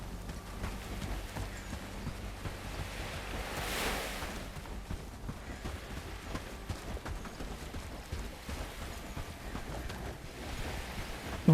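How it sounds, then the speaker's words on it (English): Waves roll onto a shore in the video game Bellwright, a steady, soft wash of surf with a gentle swell rising and falling, and no voices. "listen to the waves roll in"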